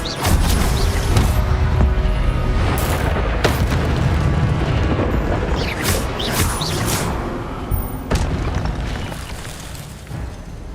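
Spell blasts from Incendio fire casting in Hogwarts Legacy burst out repeatedly amid a fight, loud booming hits and crackling flare-ups layered over a dense, rumbling combat din that fades slightly toward the end.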